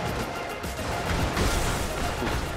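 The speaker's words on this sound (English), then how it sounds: "Ooh, that's a big explosion." A big explosion in the video game Brigador gives a dense, roaring blast of broadband noise that holds loud and steady for a couple of seconds, with no distinct onset.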